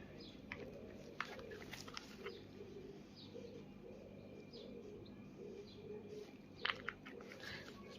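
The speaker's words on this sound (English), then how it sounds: "Birds are really being noisy today, especially the pigeons." Pigeons coo repeatedly in soft rhythmic phrases while other birds chirp and tweet intermittently, all under a constant background hum.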